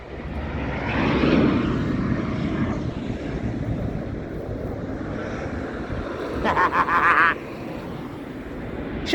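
Jet airliner passing low over houses near Heathrow Airport, a loud broad roar that swells early, then holds steady as it passes overhead, with a brief closer burst of noise later on.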